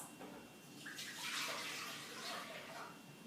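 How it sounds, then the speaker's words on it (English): Milk poured into a cooking pot while making creamy cinnamon nutmeg oatmeal: a steady liquid pouring and splashing sound, close and moderately loud, running continuously for a few seconds with no talking. "we're going to pour our milk into the pot."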